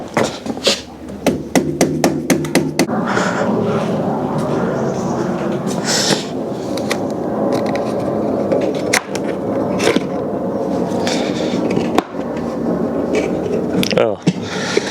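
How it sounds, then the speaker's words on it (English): A barn-find Honda motorbike's carburettor is tapped with a tool, giving a run of sharp metallic knocks, rapid at first and then scattered, close up over a background of muffled voices. "Let's give the carb a bit of a tap."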